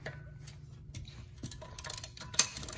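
A wrench loosening locking wheel locks by hand on an Acura TSX or Honda Accord, giving faint mechanical clicks and ratcheting ticks that grow a little busier and louder toward the end, with no talk.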